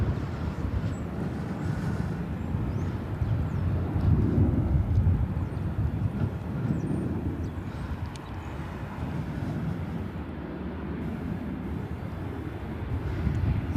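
A jet airliner rumbles at LAX, heard from Lincoln Boulevard on the north side of the airport as a steady, broad low roar that swells slightly and then holds, with no voices.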